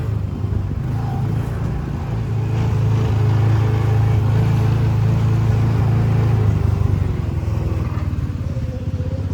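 The Cadillac Cars antique car ride at Cedar Point rumbles steadily with a low engine drone, close and loud, rising slightly in the middle before easing off toward the end.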